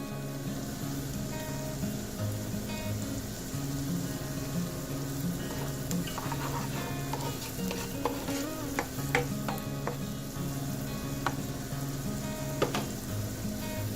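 One tomato with red pepper flakes sauteing in a pan for a simple pasta sauce, producing a continuous close sizzle with scattered spatters and utensil scrapes throughout.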